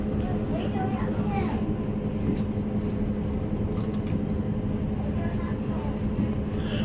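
Train pulling into Bristol Temple Meads station, a constant loud rumble of wheels and engine with a steady low drone throughout and faint indistinct voices underneath.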